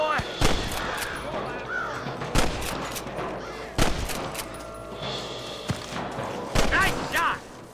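Gunfight in the Western video game Red Dead Redemption: repeated loud rifle and pistol shots crack out at irregular intervals, some close and some echoing farther off, with shouted voices mixed in among the blasts.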